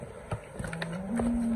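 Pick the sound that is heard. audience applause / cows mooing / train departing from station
cows mooing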